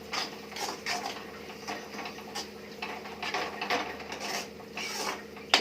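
Garam masala and chili powder stirred into a fenugreek leaf and egg curry in a pan, a soft continuous scraping and rasping of a spoon against the pan, faint and steady with light clinks.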